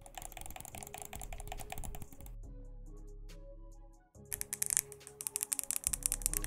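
Buttons, triggers and back paddles on an AIM PS4 Pro controller clicking in rapid bursts of sharp, close taps, pausing briefly in a quieter stretch of softer mechanical clicks before fast clicking resumes.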